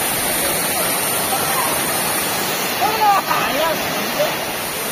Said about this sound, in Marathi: जबरदस्त पाणी आहे धबधबा आहे